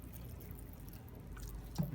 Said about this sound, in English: we're gonna get some water here, give it a nice final watering